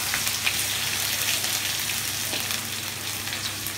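Ginger garlic paste frying in a pan, a steady, close, dense sizzle with a faint crackle running throughout, no voices.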